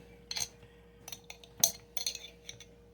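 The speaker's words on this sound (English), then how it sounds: "I need to get another spoon and spoon out some cherries" A metal spoon clinks against a glass jar in several short, sharp taps while cherries are scooped out, close and fairly quiet with no talking.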